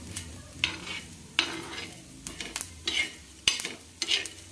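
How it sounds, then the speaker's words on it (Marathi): Chana dal being dry-roasted with spices in a pan, with a spoon scraping and stirring in irregular strokes over a soft background sizzle; no talking. "आणि आता मी हरभऱ्याची डाळ भाजून घेणार आहे।"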